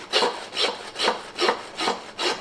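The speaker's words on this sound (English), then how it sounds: "we want to just feel it out until we can hear the bone being cut through" A hand saw cuts through a beef rib bone on a roast during butchery, six steady rasping strokes in an even back-and-forth rhythm, close and fairly loud with no talking.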